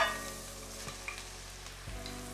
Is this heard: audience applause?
no